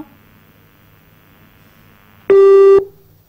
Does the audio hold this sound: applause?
no